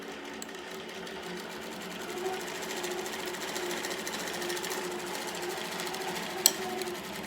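An embroidery machine stitches an applique onto a fabric mask, giving a steady, fast mechanical chatter at even loudness throughout, with one brief sharp click near the end.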